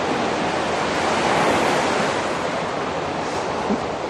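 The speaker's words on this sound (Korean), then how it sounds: "오늘도 아주 파도 소리는 엄청 좋습니다." Steady roar of ocean surf breaking along the East Sea coast at Donghae, Gangwon, a continuous dense wash of waves with some wind noise, loud and close, no voices.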